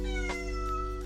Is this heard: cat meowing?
yes